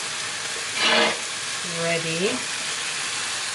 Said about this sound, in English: whilst you're frying off the chicken